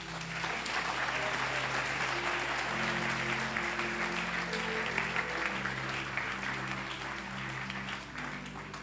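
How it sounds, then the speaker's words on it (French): A church congregation breaks into loud, sustained applause during a sermon on healing, a dense wash of clapping that carries steadily throughout, with sustained music tones running underneath. "À nous applaudir Jésus"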